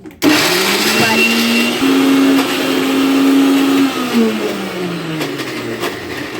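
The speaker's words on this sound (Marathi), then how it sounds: "मिक्सरला आता बारीक करूया आपण मसाले जेवढे भाजून घेतलेले आहे" A mixer grinder whirs loudly grinding roasted spices, its motor pitch rising and falling as it grinds, then winding down near the end.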